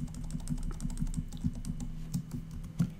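Keys clacking on a computer keyboard as shortcuts are typed during Windows Phone 8 app coding, a quick irregular run of soft close clicks with no talk.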